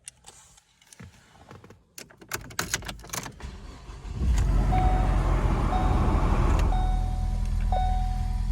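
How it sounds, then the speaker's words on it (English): A 2015 Ford Focus hatchback engine cranks after some clicks and rattles, then catches and settles into a steady, close, loud idle that holds to the end, with a few faint chimes over the top. "As you start up the car"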